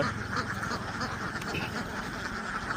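About fifteen hundred ducks crowd a farm pen at dawn, quacking continuously in a dense, overlapping chorus. The flock is near and steady throughout, with a faint voice underneath.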